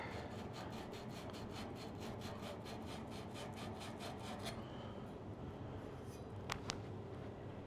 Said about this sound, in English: We're going to sand screen off. Clean up our copper pipe here.